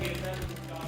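A sewing machine running steadily, a close, continuous mechanical whir lasting under a second with no pause.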